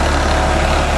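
New Holland 3630 Plus 4×4 tractor engine running with a sugarcane planter attached, a loud, steady low diesel drone with no talk over it.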